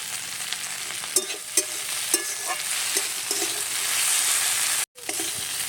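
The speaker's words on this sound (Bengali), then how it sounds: "দেখুন ভেন্ডি চিংড়ি মাছটা ভাজা হয়ে গেছে," Okra and shrimp fry together in a pan: a steady, close sizzle with soft periodic stirring scrapes. The sound cuts out for a moment near the end.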